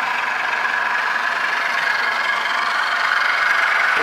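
Motor of a Groen 20 gallon agitated reaction vessel on variable speed control, running as a steady loud drone and hum with no voices.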